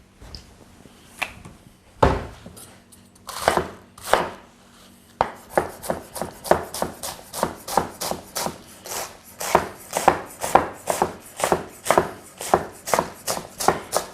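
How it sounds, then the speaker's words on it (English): Kitchen knife chopping fresh cabbage on a board for sweet corn fritters with avocado salad, starting with a few scattered cuts and settling into a steady, rapid run of crisp, close chops with no talk. "chopping that reasonably fine"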